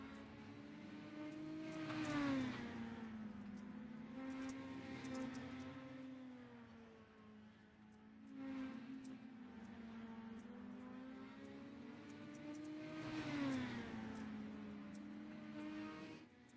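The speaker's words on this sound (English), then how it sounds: "Follow Daniel Fuller around for a couple laps as we get more entries on deck." Dirt mini stock cars lapping at I-55 in the iRacing video game: faint engine drones rise and fall in pitch through repeated revving swells, with no talk over them.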